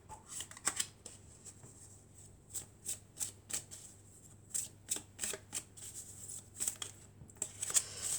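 Tarot cards are shuffled and drawn close up, with quick papery flicks and snaps in irregular clusters separated by short quiet gaps.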